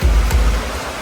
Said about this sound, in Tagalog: Grabe yung ulan po.